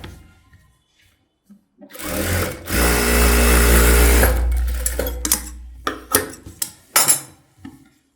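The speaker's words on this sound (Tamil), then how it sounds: "லைனிங்கை மடித்து ஒரு தையல் போட்டுங்க." A domestic sewing machine runs a single burst of stitches across folded blouse lining, a loud steady motor whir lasting a couple of seconds, followed by scattered clicks and handling taps as the fabric is adjusted.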